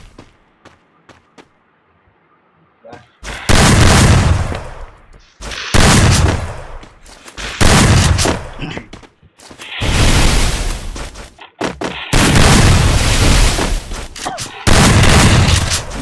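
Shotgun blasts in a mobile shooter game ring out as a series of loud, heavy booms, about six bursts spaced a second or two apart after a quiet opening with faint clicks.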